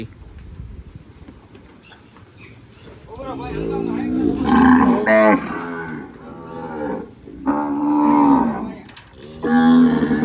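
Gir cows moo in several long, loud bellows close by, one after another with short pauses, over a low background rumble.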